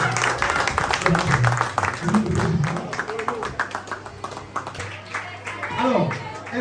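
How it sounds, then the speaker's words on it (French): A school audience applauds the winners of a departmental reading contest final, steady clapping for several seconds that thins toward the end while voices speak over it. "est-ce qu'on peut les applaudir"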